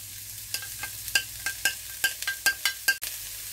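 Garlic and onion gently frying in a wide pan with a thin drizzle of olive oil at moderate heat: a soft, continuous sizzle broken by regular scraping stirs, heard close and alone.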